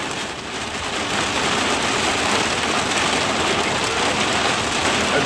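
Heavy rain pouring down outside, a loud, dense and steady hiss of drops hitting surfaces that fills the whole stretch without letting up and with no voices.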